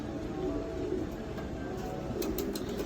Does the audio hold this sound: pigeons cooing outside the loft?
yes